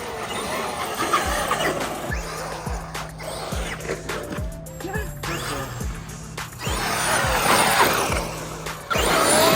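Traxxas XRT RC truck on stock tires driving over pavement, a steady whine of the electric drive with repeated sharp low thumps and squeaks, loud and close, rising to a stronger burst near the end.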